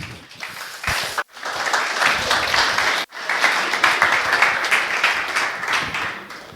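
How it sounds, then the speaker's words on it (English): Audience at a Don't Pitch Me Bro startup pitch night gives a speaker a loud, dense round of applause that runs for several seconds, broken by two sharp momentary cuts. "Big round of applause for Edward,"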